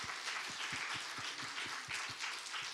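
A congregation at a Friday evening Spirit-filled church service gives a round of applause, a soft, distant wash of steady clapping from many hands with no voice over it.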